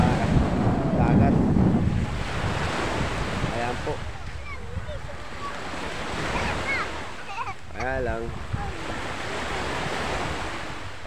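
Waves roll onto the beach at San Andres, Quezon, a steady surf wash with wind buffeting the microphone, while people talk over it in places.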